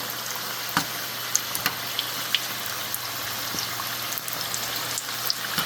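Vegetable samosas deep frying in hot oil, a continuous fine bubbling sizzle with scattered small pops and crackles, close and moderately quiet, no talking.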